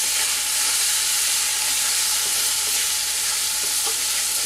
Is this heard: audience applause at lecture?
no